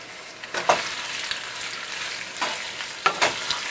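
Three chopped tomatoes frying in a pan give a steady close sizzle, broken by a few sharp stirring scrapes and clicks of a utensil against the pan.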